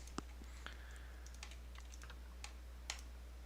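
Typing on a computer keyboard: a few sparse, light keystrokes and clicks spread unevenly over a steady low hum, faint and close, with no talking.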